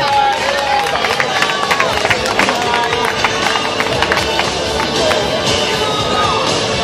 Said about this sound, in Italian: Le donne accogliamola col nostro applauso